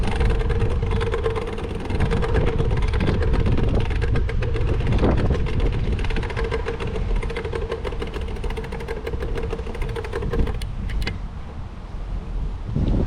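A car engine labors up a hilly cemetery road, a continuous close rumble with wind buffeting; the note wavers and shifts briefly around a gear change, then settles.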